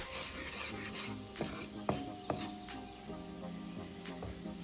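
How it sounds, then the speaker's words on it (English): Ingredients for a Jamaican-style coconut shrimp curry sautéing in a pan, a steady low sizzle with several sharp clinks and stirring knocks of a utensil against the pot, no talk. "Saute this a little bit."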